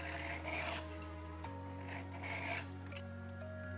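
A hand file rasps along the edge of a steel card scraper in steady repeated strokes, close and fairly quiet, with a faint steady hum underneath.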